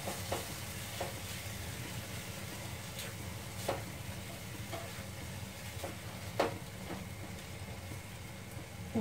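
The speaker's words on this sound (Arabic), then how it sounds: "نخلطها صافي، نخليها يتقلى مزيان" Filling for tortilla bread fries steadily in a pan, a soft constant sizzle with occasional clicks of stirring, fairly quiet and alone.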